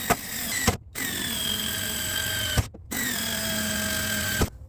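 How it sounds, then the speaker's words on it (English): A power drill drilling holes whirs steadily in three bursts separated by brief pauses, close and fairly loud, with a click at each start and stop. "Drill them out."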